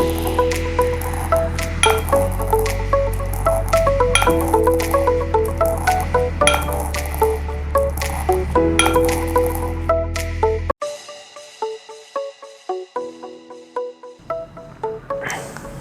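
Roasted ingredients ground with a little salt for a Nepalese Dashain dish, making rhythmic repeated squishing and grinding strokes, close and loud, pausing briefly near the end before resuming.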